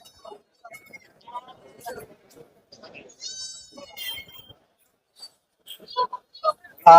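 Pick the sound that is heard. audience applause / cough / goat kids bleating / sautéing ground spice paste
goat kids bleating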